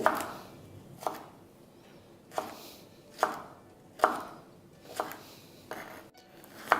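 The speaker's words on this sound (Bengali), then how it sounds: "আমি এখানে কেটে নেব পটলটাও ঠিক এরকম বড় বড় করেই কাটবো" Pointed gourd being chopped into large pieces with a knife on a board, with about eight sharp, close knocks spaced roughly a second apart over faint background and no talk.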